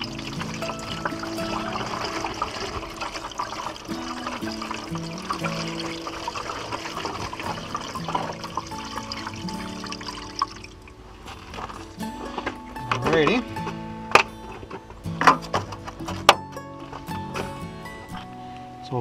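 Washer fluid pours into the windshield washer hose of a 2013 Chevrolet Suburban in winter, a steady liquid gush and trickle that stops partway, followed by a few close clunks and splashes.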